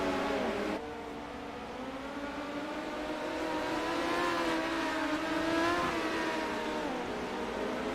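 Dirt-track midget race cars accelerate together at the green flag at Limaland, a loud layered engine roar climbing in pitch as the pack pulls away, continuous and close.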